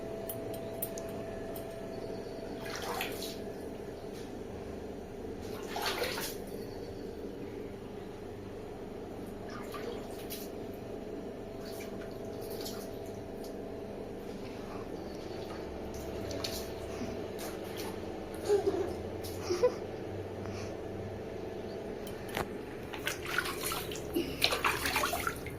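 A small child splashes and paddles in water inside a tub during bath time, with soft intermittent sloshes and light drips over a steady watery background, fairly close.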